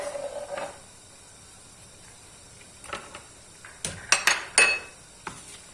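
Several sharp clinks and clatters of utensils against a bowl as chopped onions are added, clustered near the end after a quiet stretch, close by.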